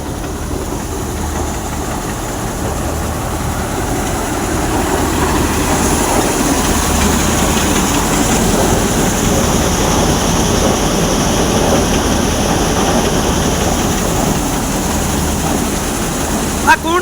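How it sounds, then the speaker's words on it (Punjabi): A train rumbles past with a steady, building clatter of wheels on rails, a low engine drone underneath, continuing for many seconds. "ਦੇਖੋ ਕਿਵੇਂ ਵੱਜਦੀਆਂ ਕਿ ਰੇਲ ਗੱਡੀ ਦੇ ਚੈ ਚੈ ਚੈ ਚੈ ਚੈ"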